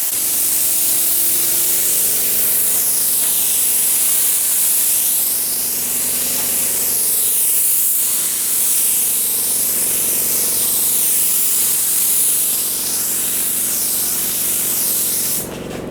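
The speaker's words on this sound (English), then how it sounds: "He's going to go ahead and put the second coat on," A spray gun lays a second coat of paint on a JDM Honda CRV, a loud, steady close-up hiss of atomized spray running continuously with slight sweeps in intensity and no speech.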